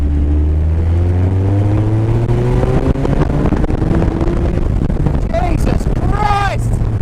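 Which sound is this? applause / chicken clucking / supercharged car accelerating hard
supercharged car accelerating hard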